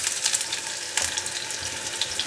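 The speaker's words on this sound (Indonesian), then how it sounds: "kita akan tumis si bawang bombaynya dulu" Chopped onions sautéing in hot oil for a BBQ steak sauce, a steady close sizzle with soft crackles and the light scrape of stirring.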